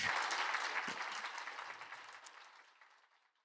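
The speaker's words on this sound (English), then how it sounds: "Let's give Richard a round of applause." A lecture audience applauds steadily after a talk, the clapping gradually fading away over a few seconds.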